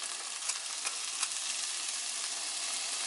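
Two cloves of garlic hitting a hot frying pan, giving a steady, fairly quiet sizzle and crackle with a few brighter pops, heard close and alone.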